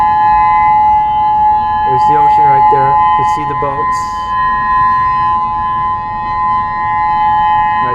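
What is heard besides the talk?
tsunami warning civil defense siren wailing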